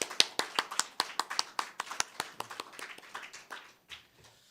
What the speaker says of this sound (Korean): 우리 함께 박수하겠습니다.